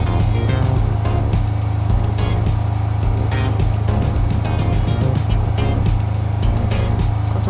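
Sewing machine stitching down the end of a fabric lacing bar, a loud close steady motor hum with a rapid mechanical needle chatter running continuously without a break.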